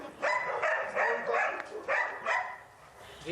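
Service dog at a military veterinary hospital in Ternopil region barking in a close, loud run of about six sharp barks at a steady rhythm, with no talk over it.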